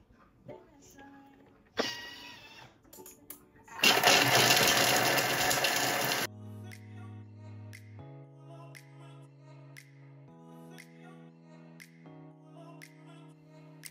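A blender mixes ingredients with a tablespoon of cocoa in a home kitchen, giving a loud, steady whirring burst of about two seconds after some lighter handling noises, then soft background music takes over.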